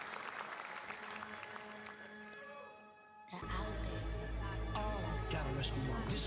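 Audience applause bursts out loudly at a video game showcase event, a sudden swell of clapping and cheering after a quieter stretch, continuing dense and sustained to the end.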